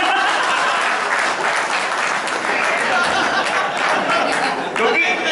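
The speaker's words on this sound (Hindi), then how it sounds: "जोरदार तालियां हो जाए।" Loud, continuous audience applause rolls through a hall at a live speech event, dense and steady, with crowd chatter and a few chuckles mixed underneath.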